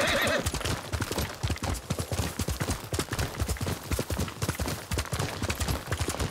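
A horse in the samurai game Ghost of Tsushima whinnies at the start, then gallops with steady, rapid hoofbeats throughout, loud and close.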